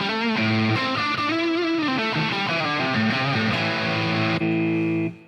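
Electric guitar played through the Soldano amp model of a Line 6 Helix LT at Frankfurt Musikmesse 2017: loud, heavily distorted sustained chords changing in a steady sequence, heard alone and fading out at the very end.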